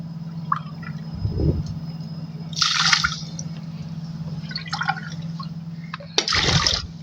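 Two cups of water poured onto two cups of sugar in a home kitchen to start a syrup, heard as short splashing and gurgling bursts separated by quiet pauses, close and fairly soft, with a low background hum.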